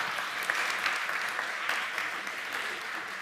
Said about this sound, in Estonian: Teeme Lembile ühe soojendava aplausi.